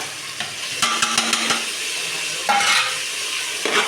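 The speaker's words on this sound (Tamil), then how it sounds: "இதை நல்லா கிண்டிக்கலாம் இஞ்சி பூண்டு பேஸ்ட்டு தக்காளி வெங்காயம் எல்லாம் மிக்ஸ் ஆகிற மாதிரி நம்ம கிளறி எடுத்துக்கலாம்" Onion, tomato and ginger-garlic paste fry and sizzle in a pan while a spoon stirs them, giving repeated close scraping and clinking strokes over the steady frying hiss, with no talking.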